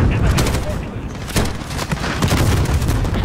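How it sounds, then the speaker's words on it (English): Explosions burst in a shooter game amid heavy machine-gun fire, making a dense, continuous roar of blasts and shots with loud thumps scattered throughout and a voice talking over the din. "Oh, God, bombs everywhere."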